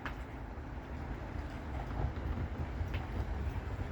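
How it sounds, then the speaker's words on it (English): A Norfolk Southern freight train led by a Dash 9 locomotive rumbles in the distance, a steady low roar of rolling stock drawing closer with no horn sounding. "This train is definitely approaching."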